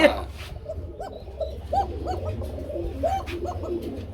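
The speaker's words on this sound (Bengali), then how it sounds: "দেখেন কবুতর জোড়াটার ডাক তো আমি দেখাই দিলাম কত সুন্দর একটা" A pair of pigeons coos in repeated soft, throaty rolls at a gentle, unhurried rhythm over a low background rumble, and a dog is faintly heard at times.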